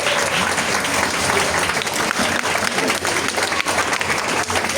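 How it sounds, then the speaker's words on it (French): Strong, steady applause from a crowd at a stage hypnosis show, a dense clatter of many hands that holds at full level throughout. "je pense qu'on peut l'applaudir très très fort"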